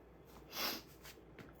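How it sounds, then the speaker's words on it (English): A single short sniffle, a quick nasal snort of breath at close range, faint against quiet room noise, with a couple of softer breaths after it. "Excuse me again with the sniffling"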